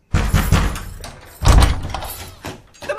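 A locked door is pounded hard in two loud bursts of heavy thuds, the second louder, with the blows ringing out between them.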